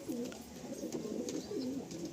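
Pigeons in a loft give low, rolling coos that repeat in waves, close and fairly clear, with faint background noise and no speech.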